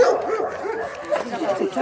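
A one-year-old dog barks and yips several times in quick succession, close and fairly loud, mixed with people talking nearby in a home.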